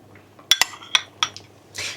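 A spoon clinks several times against a stew pot while tomato paste is added during cooking, with sharp, close metallic taps followed by a brief soft scrape.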